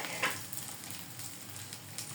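Fish frying in a pan for breakfast, a close, steady crackling sizzle with small pops, no voices.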